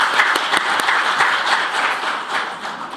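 Sustained audience applause at a Korean veterans' compensation policy forum, dense steady clapping from a crowd filling the whole stretch without pause.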